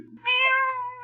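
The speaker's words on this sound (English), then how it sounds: "Where in blazes that cat come from?" A black cat in a 1948 mystery radio drama gives one drawn-out, close meow that rises and slowly fades, clear and alone with no voices over it.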